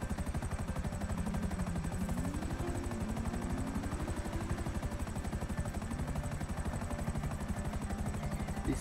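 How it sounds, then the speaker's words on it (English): Steady, close whir of helicopter rotors in Grand Theft Auto 5, a continuous fast chopping drone with engine hum held throughout, loud and alone without speech. "The helicopter makes it so much quicker."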